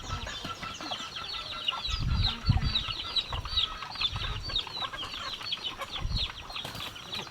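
A chicken clucks repeatedly, with bursts of wing flapping and scuffling near the middle, close by outdoors at a fish pond farm.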